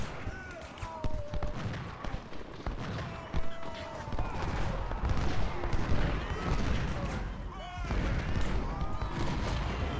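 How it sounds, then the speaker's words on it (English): Artillery batteries trade fire in the Civil War strategy game Ultimate General: Civil War, at the Thoroughfare Gap battle, heard as a dense run of distant booms and crackling volleys under a continuous battle din. "See, right now I have my guns shooting their guns."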